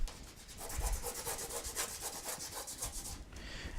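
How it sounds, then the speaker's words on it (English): Tape is burnished down by hand onto baking paper laid over a wood panel, a steady close-up rubbing and scraping that runs in quick repeated strokes with no talk. "There we go, and I will burnish now."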